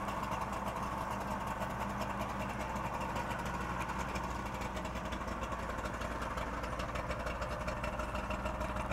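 A 1964 DKW Junior F12 Saloon's small two-stroke engine with oil injection runs at a steady idle, a constant buzzing drone heard close with no pauses.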